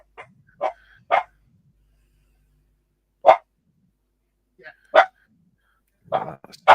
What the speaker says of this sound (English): this is where we hear Gary training his dog, training Benji.